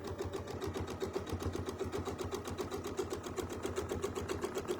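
Close, steady rapid chatter of a sewing machine stitching free-motion quilting, its needle pulsing in a fast even rhythm alongside a motor hum throughout.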